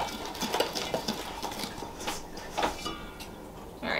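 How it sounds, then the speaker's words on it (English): Bread dough ingredients stirred together in a bowl, a run of soft wet slaps and scraping knocks in an uneven rhythm, close and moderately loud, with no talk. "Start to stir this all up."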